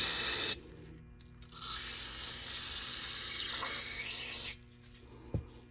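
A loud hissing aerosol spray of carburetor cleaner into a snowmobile carburetor, a short burst then a longer sustained blast of several seconds, close up, followed by a faint clunk.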